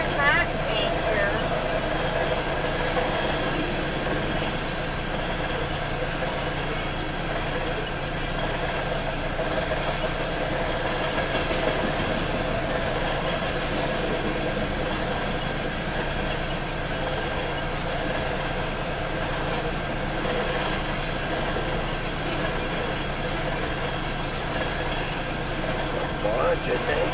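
A southbound Union Pacific freight train made up of tanker cars passes close by for a long stretch, a loud, continuous rolling roar and rumble with people talking over it.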